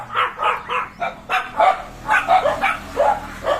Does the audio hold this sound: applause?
no